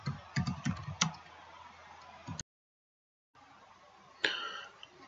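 Typing on a computer keyboard while filling in an online booking form: a quick run of close clicks, then a silent gap, then a few more isolated key presses.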